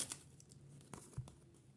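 A paper surprise packet being torn open close by, with a short papery rip and crinkle at the start and a few soft rustles and taps after it, all quiet.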